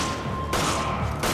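Gunfire in the video game Resident Evil 5: a couple of abrupt loud shots cut sharply through a dense, busy game background.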